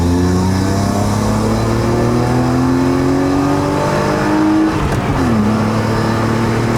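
A BMW E36 325i with a five-speed manual gearbox accelerates hard on a mountain road in Malaysia, its smooth engine tone climbing steadily, dipping at a gear change, then pulling again, loud and close.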